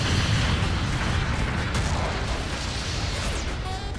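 A mobile suit blows up in Gundam Battle Operation 2, a loud rumbling blast that dies away over a few seconds into a low roar, with no voices.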